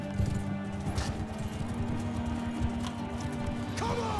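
Horses gallop with dense clip-clop hoofbeats in a Mount and Blade 2 Bannerlord battle, a steady pounding rhythm under a low drone, with a brief whinny near the end.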